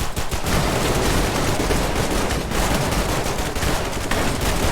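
Dense, continuous gunfire in the Roblox survival game Decaying Winter, a loud unbroken barrage of overlapping shots with no pauses.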